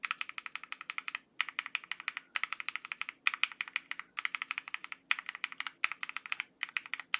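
Mechanical keyboard with linear switches, Meteor White and KTT Strawberry, typed in quick bursts of crisp, clacky keystrokes separated by brief pauses, close and fairly quiet, with no talking.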